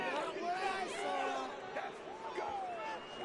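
A large football stadium crowd reacts angrily to a late penalty flag with sustained, rising boos and shouted jeers. The loud, dense roar lasts throughout the clip.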